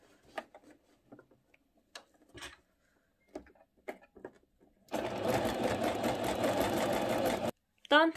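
A domestic sewing machine stitches a picot edge along lace with polyester thread, running steadily and loudly for a few seconds after sparse handling clicks and taps, then stopping abruptly.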